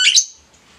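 A single short, bright chirp from a young lovebird, sharp and close, fading quickly into quiet.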